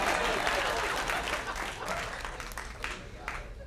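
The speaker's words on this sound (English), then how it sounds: "Keep clapping for his penis." A comedy club audience gives a full round of applause, dense and loud at first, then gradually thinning into scattered claps, with crowd murmur and some voices underneath.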